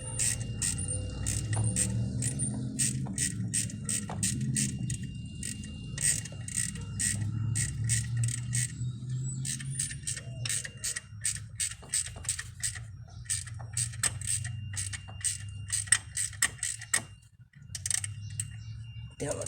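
A ratchet with a 5.5 mm socket turns the distributor bolts on a 1992 K1500, giving rapid bursts of crisp metallic clicks that pause and resume, close by and fairly quiet, with faint background noise.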